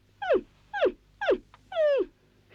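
A cartoon dog gives four whimpering yelps close to the listener. The first three are short, falling whines spaced evenly apart, and the last is longer and drawn out. There is no speech.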